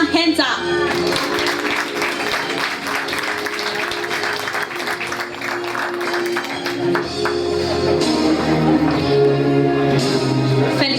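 Audience applause at a Positive Day event in Sibiu, 2014: sustained, dense clapping fills the room for about eleven seconds, steady and loud, swelling slightly toward the end.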